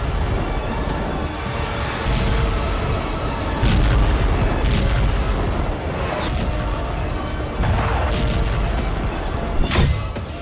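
Artillery and rocket fire in the Donbas war, heard as repeated heavy booms and blasts at irregular intervals over a dense, constant rumble.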